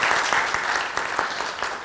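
A short burst of steady audience clapping for panelists and workshop hosts, dense and fairly close, with no talking over it.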